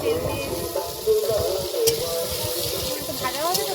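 Potatoes for a snakehead fish curry frying in a little oil, giving a steady, close sizzle with a broad hiss that runs the whole time and carries faint background noise.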